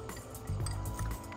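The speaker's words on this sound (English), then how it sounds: "mix the cornstarch with water and then add to the sauce" Cornstarch slurry is poured into boiling sweet and sour sauce, giving brief quiet liquid splashes and soft clinks, close and faint.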